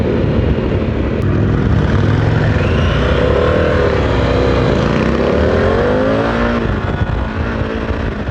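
A 150-horsepower motorcycle pulling hard on the road, its engine note rising and falling through the gears under heavy wind rush, loud and close from the rider's position, with no talking.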